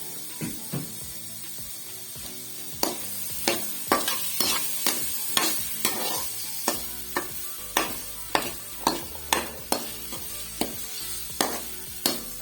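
Masala spices with tomato are fried and stirred in a pan for sarson ka saag tarka, a soft steady sizzle under repeated sharp scraping clicks of a spoon against the pot, roughly one every second, close up with no talk.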